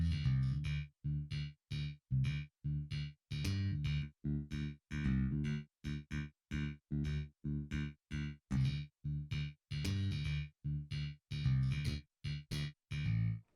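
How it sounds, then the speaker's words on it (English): A bass guitar, DI signal blended with an amp sim and the polarity flipped, plays a run of separate plucked notes in a steady rhythm, each note short with clear gaps between, heard alone. "take a listen to what happens when I flip the polarity when we blend these two basses back"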